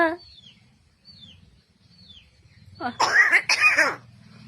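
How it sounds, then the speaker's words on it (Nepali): A man coughs in two harsh, close bursts near the end. Faint bird chirps come earlier over a quiet background. "दाजुलाई खोकी लाग्यो"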